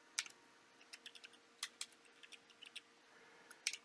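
Quiet, irregular keystrokes on a computer keyboard come in short clusters with pauses between them, close and faint against a low hum, with no speech.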